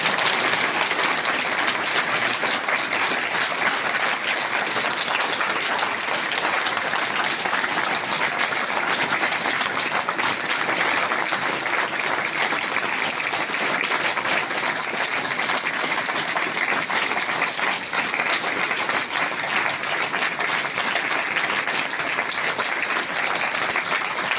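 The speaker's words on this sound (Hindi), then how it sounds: "जोरदार ताली बजाओ, छक्का बजाओ।" A large crowd at a devotional gathering honouring Sant Shiromani Satguru Shri Ghisa Sant Ji Maharaj at Khekda Dham claps loudly and steadily, a dense unbroken wall of applause sustained throughout.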